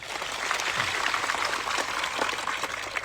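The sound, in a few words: crowd applause at a Save Aravalli rally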